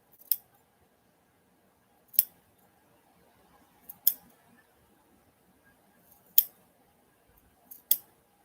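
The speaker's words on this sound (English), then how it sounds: "snip on the curve." Fabric is snipped with scissors every quarter inch along the curve of a heart-shaped pillow seam, giving five crisp, isolated cuts spaced about two seconds apart, close and quiet, with near silence between them.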